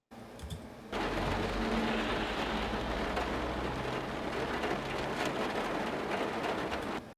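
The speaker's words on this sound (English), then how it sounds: "we already heard this interior rain sound a little bit." Steady rain heard from inside a van for game sound design, dull and reverberant as it drums on the roof, starting abruptly after a brief faint lead-in and holding a dense, even wash to the end.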